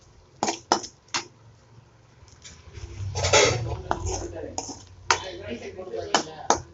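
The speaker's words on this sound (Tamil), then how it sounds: "கரண்டிகிட்டே இப்படி பீஸாக நம்ம மூளையை கட் பண்ணி விட்டுறலாம்" A ladle cuts goat brain into pieces in a pan with sharp metallic taps and scrapes, partly under a person talking, alongside a louder burst of sizzling frying in the middle.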